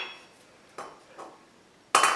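A hammer's flat face strikes hot steel while a smith forges a simple double hook, with two faint taps and then one sharp, ringing blow at the end. No one talks.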